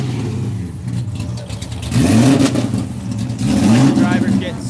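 A drag car with aggressive cams revs hard at the Texas Mile, giving two sharp rising throttle blips about two seconds apart over a lumpy idle, loud and close.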